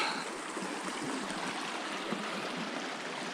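A mountain creek in the Tushar range near Beaver, Utah, flows with a steady broad rushing hiss, continuous and moderately close, with no other sounds standing out.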